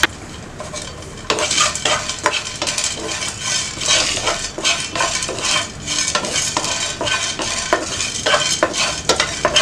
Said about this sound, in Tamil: இப்போ மிளகு சீரகம் ஆட் பண்ணிக்கலாம். அதையும் வறுத்துக்கலாம்.